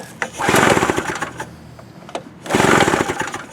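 A Pulsar 1200W/900W portable generator engine pull-started with the choke down: two loud, close bursts of rapid sputtering engine pulses, the first longer, with a brief lull between.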